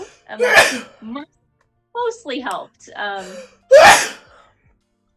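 A sneeze bursts out near the start and another follows later. Both are sharp and close, and a person is talking between them.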